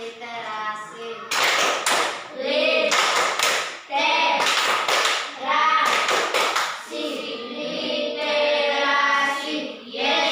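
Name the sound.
classroom pupils doing a rhythmic literacy clap (tepuk literasi)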